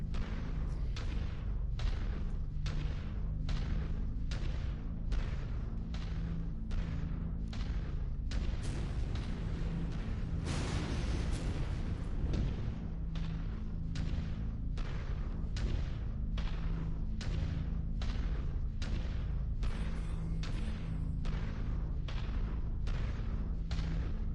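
Heavy cannons firing from orbital defenses in a video game, a steady series of roughly twenty loud booming shots at regular intervals, with a denser burst near the middle and a continuous low rumble underneath.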